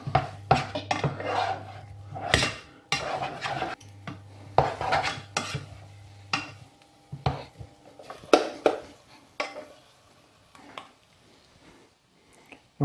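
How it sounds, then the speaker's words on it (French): Choux dough for chouquettes being stirred and mashed with a spatula in a saucepan: repeated knocks, scrapes and clatters against the pan in irregular bursts, close by, with quieter pauses between. "On écrase un petit peu avec la spatule. On mélange comme ça, on tourne."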